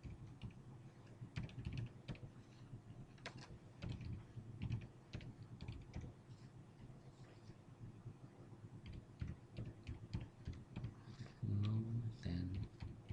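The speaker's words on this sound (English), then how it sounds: "I will type in the values that I want." Steady computer keyboard typing while entering city values into an MS Access table: quick, irregular clicks run throughout at moderate volume, with a denser, louder cluster of keystrokes near the end.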